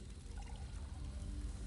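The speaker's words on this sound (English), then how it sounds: "Now pour in the resonating fluid and get ready to move." Resonating fluid pours in a video game as a soft, continuous trickle, quiet and steady against a low background murmur.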